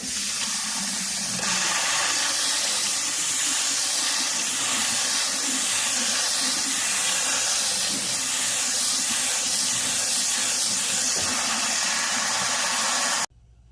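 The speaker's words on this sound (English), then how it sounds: "Rinse your rice until water runs clear." Steady running water pours and splashes continuously with a hissing rush while rinsing rice, close and constant, stopping abruptly at the end.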